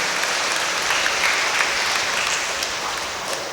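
A church congregation applauds two departing sisters with dense, steady clapping that fills the room at a constant level and tapers slightly at the end.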